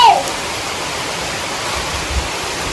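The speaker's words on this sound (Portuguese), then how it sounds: "A chuva tá forte, né?" Heavy wind-driven rain falls on a rural farm at night during a power outage, a loud, steady, even hiss with no distinct drops or gusts standing out.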